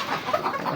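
A hen on a poultry farm clucks in a short, steady run of soft calls, close to the microphone, with no talk over it.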